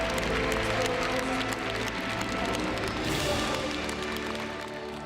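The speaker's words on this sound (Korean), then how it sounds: "박수 하나님께 드리겠습니다" A large crowd applauds steadily in a reverberant hall at a church revival gathering, the dense clapping continuing throughout and fading slightly toward the end.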